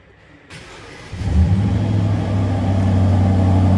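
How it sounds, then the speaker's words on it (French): Aston Martin DBX V8 with sport exhaust fires up from cold: a near, loud crank and catch, then a surging rev that settles into a steady, deep, rumbling high idle. "Oh là là, le cold start."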